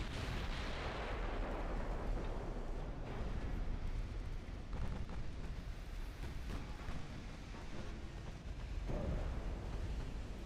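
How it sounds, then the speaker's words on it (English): A torpedo strike on a warship in the naval game Ultimate Admiral: Dreadnoughts, a heavy, sustained rumbling blast with dense low roar and crackling debris that fills the whole stretch at a steady loud level. "Apparently we just took another torpedo"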